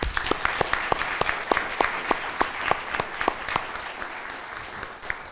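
A ceremony crowd honoring fire district medics gives a round of applause, with sharp distinct claps standing out over a continuous wash of clapping that thins toward the end.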